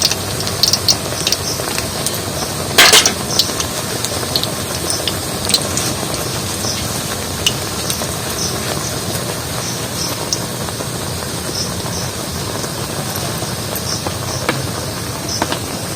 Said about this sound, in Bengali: আর খুন্তিতে জল আছে বলে তেলে পড়ছে, চড়বড় করে শব্দ হচ্ছে